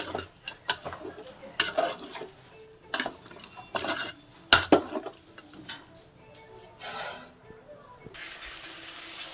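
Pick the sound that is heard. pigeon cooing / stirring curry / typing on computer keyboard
stirring curry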